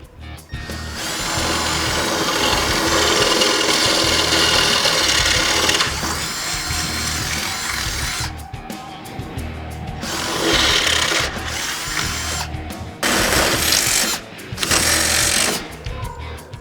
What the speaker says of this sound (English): we're going to drill these 4 holes out right here so we can insert our rib nut in